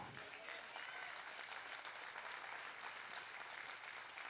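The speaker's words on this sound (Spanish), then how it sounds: "yo sé que ese aplauso no es tanto para alabar a Dios, sino porque ya se quieren ir" A church audience claps in sustained applause, a dense even patter of many hands heard from some distance and fairly faint, with no clear voices above it.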